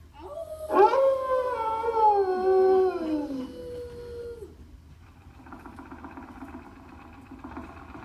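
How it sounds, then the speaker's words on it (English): A dog howls briefly, then an old exercise machine drones and whirs steadily in the background on Magic Kingdom's Carousel of Progress ride. "using that old exercise machine she rescued from the attic"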